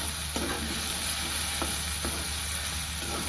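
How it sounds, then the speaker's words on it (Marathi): Shelled green peas tossed in hot oil in a pan, a steady close sizzle under occasional soft stirring clicks and scrapes, with no voices. "मी तेलामध्येच थोडे वेळ वाटाणा मिक्स करून घेते"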